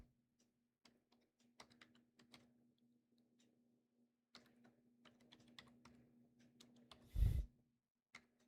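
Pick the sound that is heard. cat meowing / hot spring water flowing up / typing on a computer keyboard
typing on a computer keyboard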